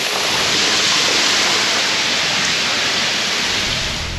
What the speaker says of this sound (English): it is pouring outside. Yeah, the rain's hard enough for that.